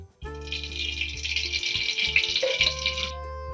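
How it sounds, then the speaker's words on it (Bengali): White oil and a little ghee hit a hot wok and sizzle loudly and steadily for a few seconds, a bright continuous hiss with some bubbling, no voices. "কড়াটা গরম হয়ে গেছে, এবার আমি সাদা তেল দিয়ে দেব আর একটু ঘি দিয়ে দেব।"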